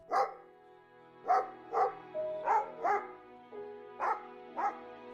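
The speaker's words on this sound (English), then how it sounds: "the barking began, relentless, sharp, echoing through the stairwell, through the thin walls" A dog barks repeatedly in sharp, clear yaps, echoing through a stairwell, about eight barks in irregular bursts, with a faint tonal hum behind them.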